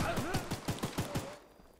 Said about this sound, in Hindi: अब कहाँ से गोली चला रहा है?